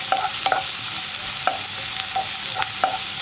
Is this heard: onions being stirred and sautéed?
yes